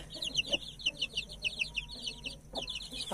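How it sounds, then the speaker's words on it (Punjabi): An Aseel hen clucks in quick, repeated bursts close by, with soft peeping of newly hatched chicks and faint farmyard noise around. "ਬੱਚੇ ਨੇ ਮੁਰਗੀ ਆ"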